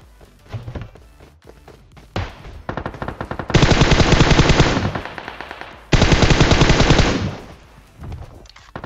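Automatic AKM and Vector fire in a battle-royale shooter game, rapid rattling bursts in short spurts at first, then two long, loud sustained volleys close up, with a few thuds between.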